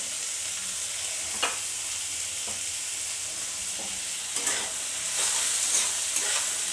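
Jackfruit fat curry sizzles in a pan over a medium flame after salt goes in, a loud steady frying hiss close by, punctuated by several spoon-stirring scrapes, with no speech.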